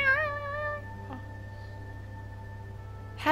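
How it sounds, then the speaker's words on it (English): A cat gives a long, wavering, high-pitched yowl that stops early, leaving a steady low hum and a faint thump before a sharp noise at the end. "Oh, cat fight."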